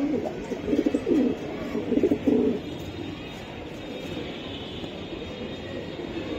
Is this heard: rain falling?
no